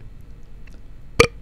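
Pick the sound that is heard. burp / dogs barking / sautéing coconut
burp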